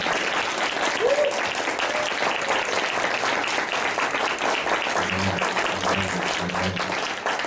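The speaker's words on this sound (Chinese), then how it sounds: "我们要用更大的掌声欢迎耶稣基督在我们当中" A church congregation applauds steadily and loudly throughout, a dense wash of clapping with a faint voice briefly audible beneath it.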